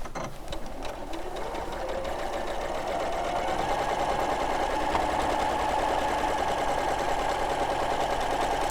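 A sewing machine stitches continuously at close range, a fast steady mechanical whirr that starts up and runs evenly for several seconds, with no talk over it.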